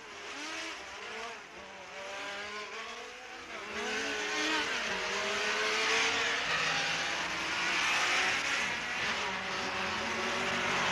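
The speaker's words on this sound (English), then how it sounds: "Three Porsches driven by Sifert, Stommelen, and Mitter lead the way." Porsche race cars pulling away at the start of the 1968 Le Mans 24 Hours, with several engines revving and rising in pitch as they pass, a loud continuous roar of racing traffic and no talk.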